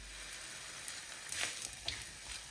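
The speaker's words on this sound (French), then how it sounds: "Donc là, j'ai mis ma poêle à chauffer. Je vais mettre ma galette dedans." Flatbread laid in a heated pan, a faint close sizzle with a few soft scraping touches.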